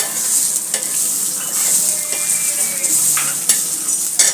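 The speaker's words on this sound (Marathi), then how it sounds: "आता त्याच्यात टाकणार आहे हिरवी मिरची म्हणजे ती पण भाजून निघाल छान असा मसाला भाजून घेत आहे" Masala with onion and green chilli frying in a pan, a steady bright sizzle running throughout with occasional scraping stirs and faint utensil clinks, close and fairly loud.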